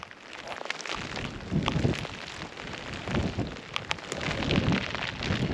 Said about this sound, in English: can hardly see with the rain on my glasses